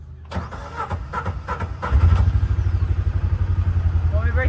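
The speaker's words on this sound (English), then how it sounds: "That diesel tractor starts just like that." A diesel tractor engine cranks over in a few uneven bursts, then catches and settles into a loud, steady, chugging idle with a fast regular knock, close by, with faint voices in the background.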